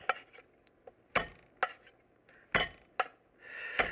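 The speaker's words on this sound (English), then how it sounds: "Now I want to do garlic. I'll crush it coarsely" Garlic being crushed coarsely on a kitchen board, heard as a handful of sharp, separate knocks and taps with short gaps and a brief scraping rustle at the end, close and fairly quiet.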